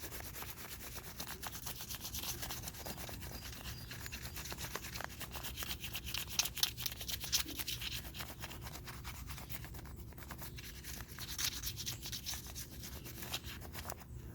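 A crayon, partly unwrapped, pressed down and rubbed back and forth across paper laid over a leaf, a continuous close scratchy rasping with quick repeated strokes and no talk.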